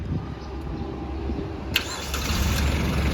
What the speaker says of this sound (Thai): เดี๋ยวไปฟังเสียงเครื่องดูครับ